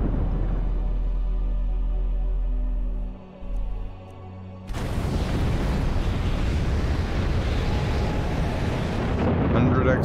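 A fire ritual spell cast by a necromancer in Skyrim, a loud sudden whooshing, roaring burst of flame that swells after a low droning tone and keeps rushing steadily to the end.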